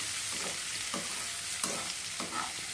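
Ridge gourd stirred in a hot pan with a spoon, a steady close sizzle under repeated scraping strokes for a few seconds, no voices.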